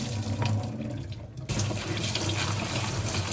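Cooked chickpeas being rinsed under a running sink tap, a steady close splashing water stream that stays continuous throughout, briefly softening before surging back louder.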